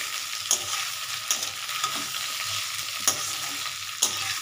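Potatoes frying in a pan for white aloo dum with sesame and poppy seed, stirred with a spoon: a steady sizzle with four or five sharp scraping clinks spaced unevenly, close and alone with no voices.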